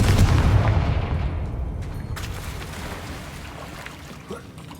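A fire spell blast in Hogwarts Legacy lands as a loud, broad boom at the very start, then its rumble slowly fades over several seconds with faint crackles trailing behind.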